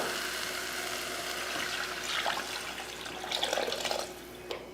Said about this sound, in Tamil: இப்போ புளி தண்ணி சேர்த்துடலாம்